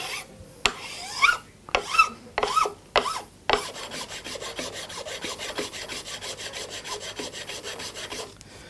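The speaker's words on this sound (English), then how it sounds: "Onto the fret leveling file, which is finer." A fine fret leveling file rasps along the frets of an electric guitar under construction, first in a few separate loud strokes, then in a steady run of quicker, even back-and-forth strokes, close by with no talking.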